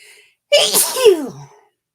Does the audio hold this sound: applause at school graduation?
no